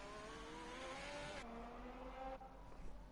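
An F1 race car in a video game pulls out of the pit lane, its engine whine climbing steadily in pitch, then dropping sharply at each upshift, loud and close throughout.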